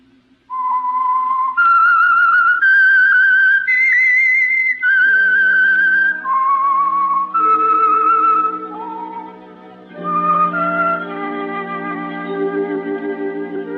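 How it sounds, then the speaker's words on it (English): Theme signal of The Whistler radio program: a lone whistled melody of sustained, gliding notes rising and falling in a clear eerie tune, later joined by orchestral chords, loud and close. "That whistle is your signal for the Signal Oil program, The Whistler."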